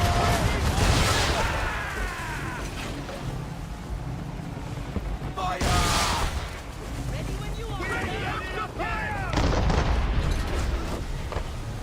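Ship cannons fire in Assassin's Creed 3 during a naval battle, with heavy booming volleys rolling out in bursts over a continuous roar of wind and sea, loud and close, with a voice shouting in between.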